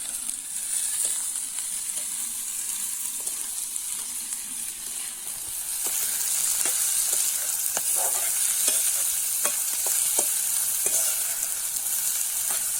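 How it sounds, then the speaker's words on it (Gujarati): Ingredients fry in hot oil in a pan before chickpea leaves go in: a constant bright sizzle, rising a bit louder midway, broken by repeated light scrapes and knocks of a stirring spoon. "મસ્ત તેલની અંદર એકદમ ફ્રાય થઈ જાય પછી જ આપણે ભાજી નાખીશું"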